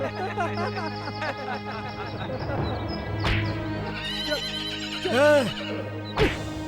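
A horse whinnies loudly twice amid an outdoor scene, each neigh a rising and falling cry, with background music and people talking around it.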